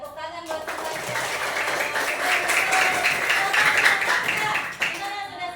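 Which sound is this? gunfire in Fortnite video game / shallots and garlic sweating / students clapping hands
students clapping hands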